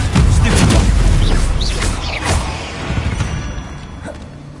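Bombarda blasting spell explosions in the Hogwarts Legacy video game, fired during a fight in a goblin mine: loud, booming bursts that crowd the first seconds, followed by rumbling debris and smaller pops that fade toward the end.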